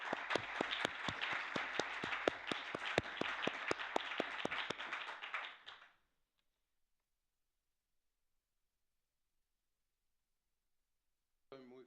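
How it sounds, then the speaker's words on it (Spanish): An audience at a talk on contemporary art and spirituality bursts into lively clapping that fills the room for several seconds, then stops abruptly into silence. "Un aplauso pel pare Mènechens."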